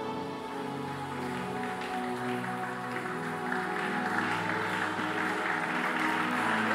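A congregation at the closing service of a church retreat cheers and acclaims in a steady, sustained wash of crowd noise and clapping, blended with music or singing throughout.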